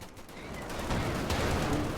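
Sustained MG42 machine gun fire in a World War II strategy game, a dense continuous rattle of rapid bursts mixed with distant battle noise, fairly loud with no talking.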